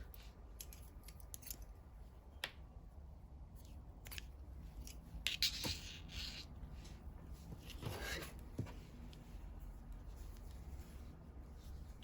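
Quiet, close snips of scissors cutting yarn at scattered moments, a few crisp cuts against near silence with faint handling rustle.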